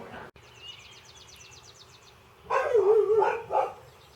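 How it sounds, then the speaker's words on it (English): A dog barks outdoors in the quiet early morning, a short burst of several close, fairly loud barks near the end, after faint bird chirps in the background. "Well, the dog started barking."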